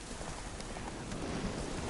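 Horse hooves clip-clop steadily in The Witcher III, a dense run of soft beats under continuous rain-like noise, fairly loud throughout the brief moment.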